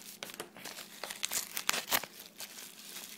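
Close, busy crinkling and crackling of mail packaging being opened, with irregular bursts of rustling and tearing-like rasps over about three seconds and no talk.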